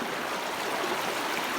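Floodwater rushes through a village during heavy rain, a dense, steady broadband wash heard close and continuously, with no voices over it.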